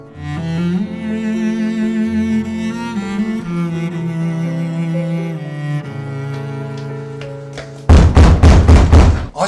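Loud banging on a closed door, a quick run of heavy, thudding knocks that cuts in abruptly after a dramatic music score.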